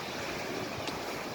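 Sea waves wash onto Sattahip beach in Thailand as a continuous, fairly faint broadband rush, with some wind noise mixed in.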